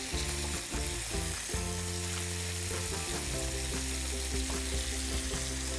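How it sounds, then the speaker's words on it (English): Chopped garlic fries with lap cheong and bacon in a hot pan for fried rice, producing a continuous close sizzle with occasional stirring, under faint tonal background sound. "Okay, so now we got our lapchang and bacon cooking."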